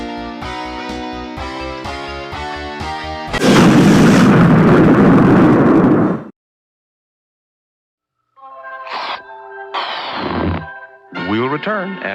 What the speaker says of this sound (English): Watch it explode.